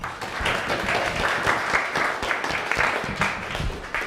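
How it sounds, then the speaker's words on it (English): Indoor audience at a tech meetup applauding, a brisk burst of many hands clapping that holds steady for a few seconds. "Can we give them another round of applause?"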